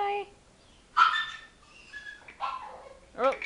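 A puppy gives a few brief, close whimpers and high yips, each thin and rising, separated by short pauses.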